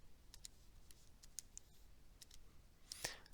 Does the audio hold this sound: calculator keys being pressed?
yes